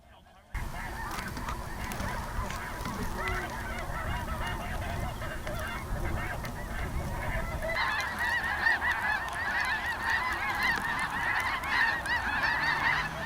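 A large flock of geese honking continuously outdoors in a hunting area, a dense chorus of calls that grows louder and busier partway through.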